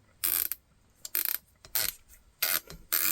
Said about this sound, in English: Very audible. Pretty tactile too, tactile positive, with just a little bit of play between each of the clicks.